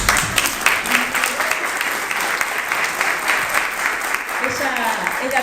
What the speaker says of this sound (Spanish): Por un lado tenemos a Paula Varela, un fuerte aplauso.